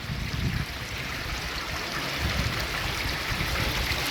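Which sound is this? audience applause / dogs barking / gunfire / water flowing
water flowing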